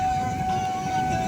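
A KRL commuter train rumbles past close by at a railway crossing in Indonesia, a dense steady roar of wheels on track with a sustained crossing-bell or warning tone ringing over it.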